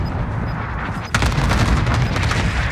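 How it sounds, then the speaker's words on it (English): A cluster strike in the Warzone video game rumbles as a dense run of heavy blasts. A continuous roar of booms and crackling impacts swells about a second in and stays loud throughout. "Allied cluster strike inbound."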